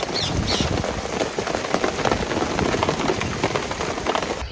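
Steady rain falls outdoors in a dense, even hiss of drops hitting surfaces. It carries on without a break and no voice is heard.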